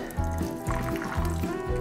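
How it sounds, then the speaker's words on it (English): Water poured over a model mountain to emulate rain, a close trickling and splashing flow with a repeating gurgling pulse, steady throughout. "So I am going to emulate rain and we're going to see if we can get a waterfall to form."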